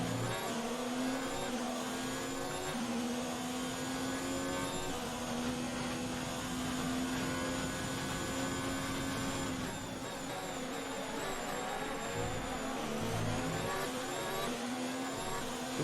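Several F1 race cars in the F1 2019 game at the Azerbaijan Grand Prix drone together with high, whining engines. The steady roar holds at a constant loud level without pause, with a few lower thumps near the end.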